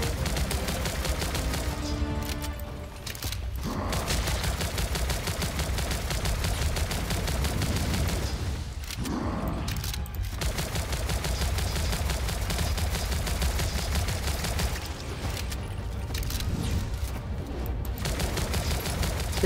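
Rifle fire in the video game Zombotron Remake, dense rapid bursts of shots running almost continuously and loud, with a few short pauses between volleys.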